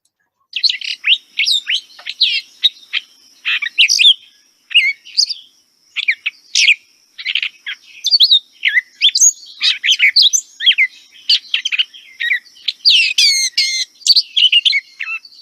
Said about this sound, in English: If you hear a bird that's singing and it just doesn't ever do the same thing again, you might have a gray catbird